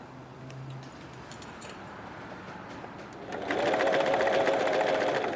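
A Pfaff Coverlock 3.0 coverstitch machine hems a sleeve, starting after a quiet pause with light clicks into a loud, steady, rapid mechanical whir that runs on close up.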